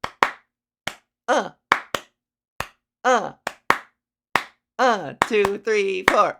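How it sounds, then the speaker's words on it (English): Hand claps beat out a lively, regular rhythm up close while a man counts aloud and chants along between the claps. "That's a happy clap rhythm."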